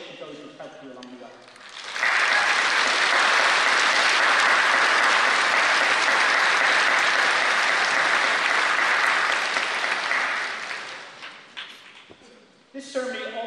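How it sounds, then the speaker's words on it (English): A hall audience at a university graduation ceremony breaks into loud, sustained applause that swells quickly, holds for about eight seconds and fades out, with speech heard before and after. "Graduates, please join me in a round of applause and appreciation of those who have helped you along the way."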